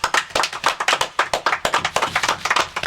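A small group claps in a podcast studio for a UK rap show, a short burst of quick, uneven hand claps close to the mic, fairly loud and steady for a few seconds with no talking.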